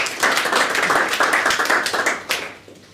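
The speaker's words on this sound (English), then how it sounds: "Warm applause for our first talkers." Audience applause for the first speakers at a talk session on AKS monitoring and FinOps, dense clapping from a modest crowd that carries on steadily and then thins out toward the end.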